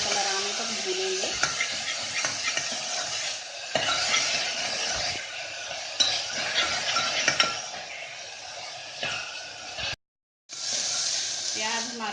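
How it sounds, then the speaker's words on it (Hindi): Onions frying in a pan for a Himachali arbi dish, a loud continuous sizzle with a spoon stirring and scraping against the metal throughout, one brief dropout near the end. "अब इसमें डाल देंगे प्याज। प्याज को हम गुलाबी कलर आने तक भूनेंगे।"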